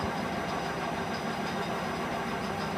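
Metal lathe spinning a face plate, a steady even mechanical whir and hum holding at constant loudness, close and continuous with no speech.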